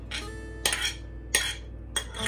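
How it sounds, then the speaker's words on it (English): A spoon mixes tomatoes and chopped onions into sprout bhel in a bowl, giving three quick scraping, clinking strokes against the dish at a regular pace. "Mix in the tomatoes and chopped onions."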